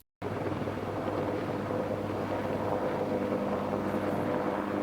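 Bell AH-1Z Viper attack helicopter flying by, heard as a steady, loud rotor and turbine roar with a low hum and broadband wash that hold level throughout, no voices.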